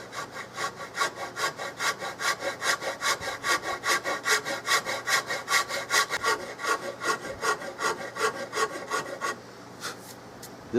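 Hand sanding of wood on a Remington 700 rifle stock being converted to Mannlicher style, a steady rhythmic back-and-forth rasping of about two strokes per second, close and fairly loud, with no talk, stopping near the end.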